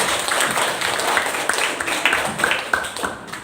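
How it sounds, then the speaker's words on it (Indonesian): A group of women at a Balinese storytelling competition applaud, a steady wash of clapping heard fairly loud and continuous throughout. "Tepuk tangan"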